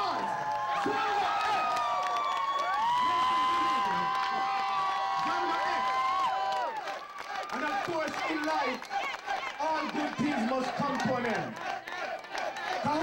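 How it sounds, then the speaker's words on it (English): A college concert crowd cheers and applauds for a rock band, a loud, sustained wash of shouting and clapping with an announcer talking over it at first. "Give them one last round of applause."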